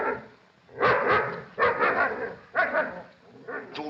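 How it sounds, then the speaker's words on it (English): A dog barks in short bursts, about four loud close barks spaced roughly a second apart with brief quiet gaps between them. "Go on, grab hold of that dog."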